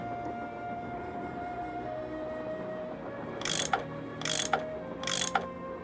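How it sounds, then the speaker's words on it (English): A tool turns bolts in the Nancy Drew game Last Train to Blue Moon Canyon. Over a quiet background hum come three short ratcheting bursts, each a sharp mechanical click-and-grind, spaced about a second apart. "I bet that's what you use to unscrew these bolts."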